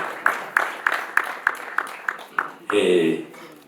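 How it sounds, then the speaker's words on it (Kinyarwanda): Audience at a Rwandan family celebration claps in a steady beat, about nine crisp, evenly spaced claps, followed by a brief burst of voices. "dukoma amashyi kuko bahagurutse"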